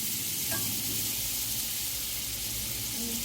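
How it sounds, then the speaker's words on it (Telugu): Butter melting in a hot pan for an egg sandwich gives a steady, loud, close sizzling hiss that runs unbroken throughout, with a faint brief scrape near the start. "ఇప్పుడు బటర్ వేయాలి, అది మెల్ట్ అవ్వాలి."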